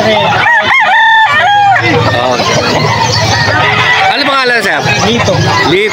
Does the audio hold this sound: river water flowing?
no